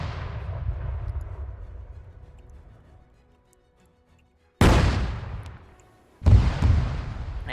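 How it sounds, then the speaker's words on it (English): An anti-tank gun in a combat video game fires three heavy booms: one already decaying at the start into a long fading rumble, then two sharp, loud blasts several seconds apart, each trailing off. "anti-tank gun firing."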